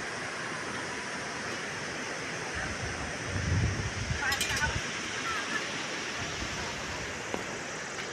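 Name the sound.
sea waves at Harihareshwar beach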